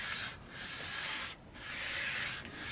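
Sanding on an Antoria Les Paul copy guitar: steady, close rasping strokes with two brief pauses, a rhythmic back-and-forth rub.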